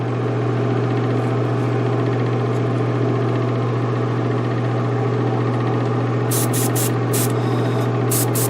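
Spray gun laying primer onto a Chevrolet C1500 454 SS truck chassis, a steady loud hiss running throughout, with a few short bursts near the end.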